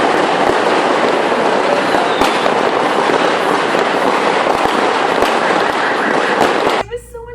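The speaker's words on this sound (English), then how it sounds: "there were firecrackers. A bunch." Firecrackers crackle in a dense, continuous barrage at a Christmas party in El Salvador, loud sharp pops layered over a rushing hiss, ending suddenly with a brief voice at the close.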